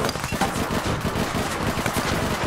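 Rapid automatic gunfire from a firefight in the video game APB Reloaded, with dense continuous bursts that stay loud and close for the whole stretch.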